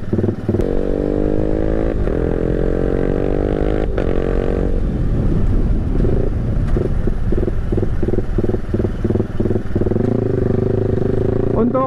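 A Kuda Juken 5 motorcycle is ridden slowly along a bumpy road, its engine humming steadily with rattles and jolts over uneven ground, while someone talks over the engine noise.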